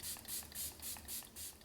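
A series of short hissing sprays of setting spray over a cushion foundation, about six quick pumps in a steady rhythm, close and fairly quiet.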